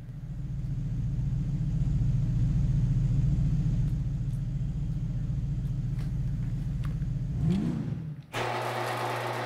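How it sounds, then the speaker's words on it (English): A fully upgraded Cognoscenti V12 in GTA 5 Online idles with a steady, deep exhaust rumble, rises in a brief rev near the end, then cuts sharply to a quieter drone. "The exhaust on this thing's actually pretty nice too. I'll turn up the volume here so you guys can hear it."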